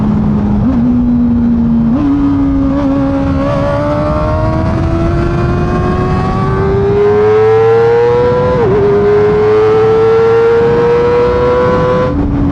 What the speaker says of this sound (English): It's an inline 4 screamer, guys.